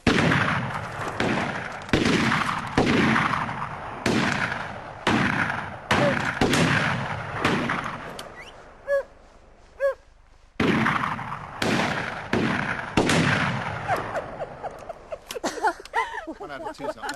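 A long run of loud, close gunshots from a shoot in an English country setting, with sharp blasts every half second or so, a brief pause, then more volleys, and voices speaking in between.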